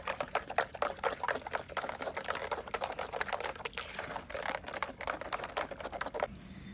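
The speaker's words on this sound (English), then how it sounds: "So let's just mix it" Organic hand soap solution is stirred briskly in a container, giving a fast, continuous run of small watery clicks and swishes, close up and quiet, with no voices.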